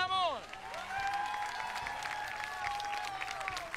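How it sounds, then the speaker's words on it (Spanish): Audience applause at an outdoor cooking demonstration in the central plaza of Junín, where fish is cooked on a disc with vegetables; steady clapping runs throughout, with voices and cheering mixed in. "Un aplauso para don Ramón."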